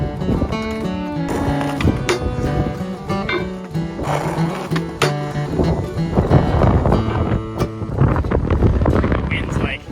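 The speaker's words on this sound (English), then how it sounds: "The wind's like pushing me around as I'm grinding." Hard wind buffeting a microphone at an outdoor parking lot skatepark, a continuous loud rushing roar that rises and falls through the whole stretch, mixed with skateboard wheel rumble and a person talking.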